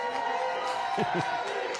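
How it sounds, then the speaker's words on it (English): A crowd at the NDP election-night headquarters cheering and chanting, heard at some distance with sustained voices and a couple of rising whoops over a steady crowd roar. "You can hear these chants of NDP, Dwight"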